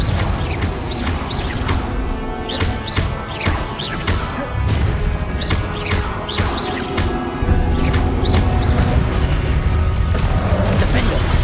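Confringo fire-spell blasts in Hogwarts Legacy combat against goblins, with repeated sharp crashing impacts and booms over a loud, busy fight mix, and voices shouting spell names throughout.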